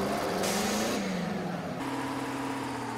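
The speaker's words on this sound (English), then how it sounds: "start the engine" A Big Bud tractor engine in Farming Simulator 17 starting up, a steady low mechanical rumble that shifts pitch as it catches and settles into a constant idle drone.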